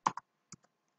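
Four quick, quiet keystrokes on a computer keyboard while a git command is typed: two close clicks, a short pause, then two more, with silence between.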